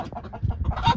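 An Aseel breeder rooster on a farm in Saudi Arabia gives a quick run of close, throaty clucks, loud and brief with no talk.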